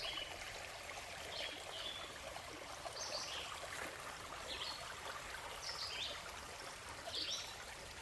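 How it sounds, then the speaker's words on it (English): A small woodland stream trickles steadily at close range in a forest hollow, a continuous soft watery babble with faint bird chirps above it and no talking. "It's a pretty water source."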